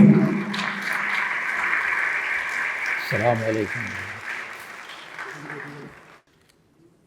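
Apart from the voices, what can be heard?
audience applause welcoming the reciter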